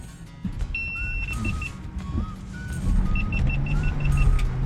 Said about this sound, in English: I had really hoped to get this Land Rover free under its own power